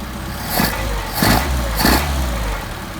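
A car engine fitted with a Solex carburetor idles at about 700 rpm, a close, steady low rumble with three slight periodic swells in loudness.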